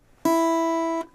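A single sustained guitar note picked fingerstyle on the first string, sounding steady and clear for about three-quarters of a second before stopping cleanly, alone with no talk.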